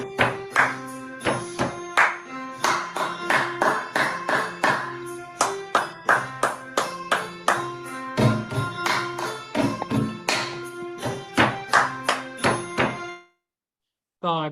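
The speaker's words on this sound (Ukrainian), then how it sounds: "Ми поаплодували нам всім за такі вправи." Children in a physical education lesson clap in rhythmic bursts of sharp, near claps with brief pauses between rounds, ending in sudden silence.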